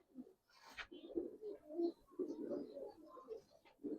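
Giribaz highflyer pigeons coo softly and repeatedly, a faint, low burbling of several overlapping calls heard close by.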